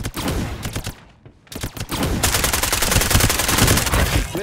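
Rapid automatic gunfire from the battle royale shooter Farlight 84, loud bursts that stop briefly in a short gap before resuming as a sustained dense fusillade.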